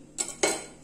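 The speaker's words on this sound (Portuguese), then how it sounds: "Se você quiser, você já pode passar até a faquinha assim na lateral" A knife scrapes and clinks twice against the inside edge of a mug holding cuscuz cooked in the microwave, two short, close metallic strokes.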